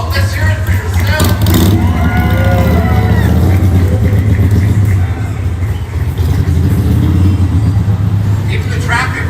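A motorcycle rumbles past amid street traffic at an outdoor ceremony, a loud low engine drone that swells and fades while a person talks over it.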